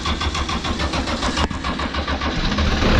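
A sports dumper's engine cranking and catching on a concrete bunker build site, a loud, steady, chugging diesel rattle that continues running with a brief stutter midway.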